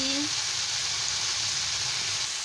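Vegetables sautéing in a pan with turmeric and chili powder for spinach chorchori, a loud, continuous close sizzle with a brief faint tone at the start and no speech.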